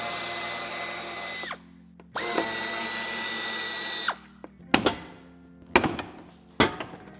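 A power drill or impact driver works on the two upper screws inside the open boot of a 2020-2024 Toyota Yaris during a tow bar fitting, with two sustained whirring runs followed by three sharp clunks of parts being handled.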